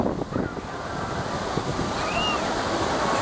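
Ocean waves break and wash up a sandy beach in a steady, loud roar of surf, overlaid with gusty wind buffeting the microphone and a faint, brief whistling tone partway through.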